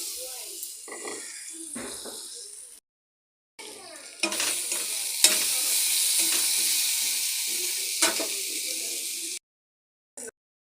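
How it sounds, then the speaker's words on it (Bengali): Tomatoes dropped into hot oil in a pan hiss and sizzle loudly and steadily, with brief gaps and a few utensil knocks, while someone speaks at the start. "এখন টমেটোগুলি ছেড়ে দিচ্ছি।"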